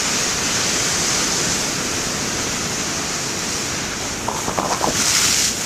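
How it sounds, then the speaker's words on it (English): Large ocean waves crashing and surging on a shoreline, a loud continuous roar of surf with a splash swelling near the end, close to the listener. "Oh God, the wave splashed when I was wiping the lens."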